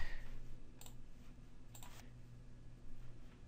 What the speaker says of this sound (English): So now if I click on this page